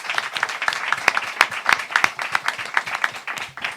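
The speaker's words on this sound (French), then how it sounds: "On peut l'applaudir, elle est là." A small audience at an evening show claps for a guest, the individual hand claps distinct and fairly close, forming a brisk, uneven burst of applause.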